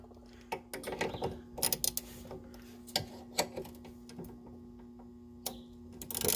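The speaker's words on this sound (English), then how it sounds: "It just takes take a 12mm wrench and a 12mm socket." A 12mm wrench and socket work on sway bar link bolts during tie rod and suspension repair, giving close metallic ratcheting clicks and taps in irregular bursts over a faint steady hum, with no talking.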